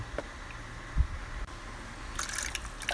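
Water trickling and dripping as it is poured into an improvised cloth filter holding barako coffee grounds, a soft liquid patter building toward the end, fairly quiet and close with no talk.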